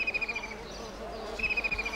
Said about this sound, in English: The bee flies off, but to another bug orchid.